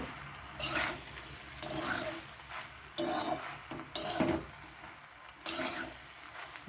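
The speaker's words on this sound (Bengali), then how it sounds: "এবার পাস্তাটাকে সবজির সাথে ভালো করে মিশিয়ে নেব।" Pasta being mixed with vegetables in a pan at home, with scraping and stirring strokes of a utensil against the pan and faint sizzling, in irregular bursts up close with no talking.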